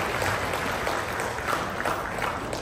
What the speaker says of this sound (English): Let us give him a round of welcoming applause